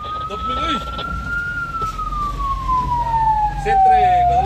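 A fire engine siren wails loud and close as the truck responds to a fire alarm at a sports complex in Cebu City, Philippines, one long sustained tone slowly falling in pitch over steady road rumble.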